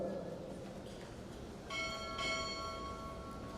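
Two clear strikes of a ship's bell sound at a Navy chief petty officer pinning ceremony, close together with a ringing metallic tone that lingers over a hushed hall.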